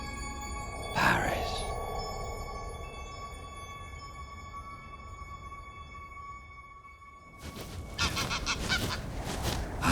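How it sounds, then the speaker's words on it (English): A family of grey European geese honks, with one sharp call early on and a cluster of louder honks near the end over a steady outdoor wash of background noise in Paris. "They appear to be a regular family of grey geese."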